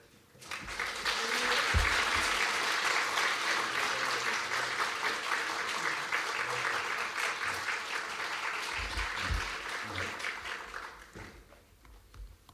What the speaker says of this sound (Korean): 우리 할렐루야라 박수로 영접하도록 하겠습니다